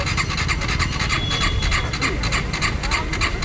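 A Suzuki Gixxer SF155 motorcycle with an empty fuel tank being cranked but failing to start, giving a steady, loud rasping churn that runs unbroken for the whole stretch without catching.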